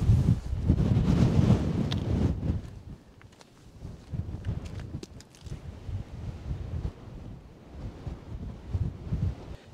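Strong wind buffets the microphone outdoors in Parys, with loud roaring gusts that are heaviest in the first few seconds and then keep up a steady rumbling bluster.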